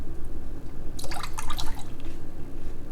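Water splashing and dripping while salted Korean radish is rinsed for kimchi, a short burst of bright splashes in the middle over a low steady background hum.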